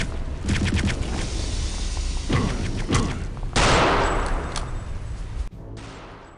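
Rapid bursts of Sten submachine gun fire in the shooter game Return to Castle Wolfenstein, loud rattling volleys layered with explosive booms and game effects, dense and continuous.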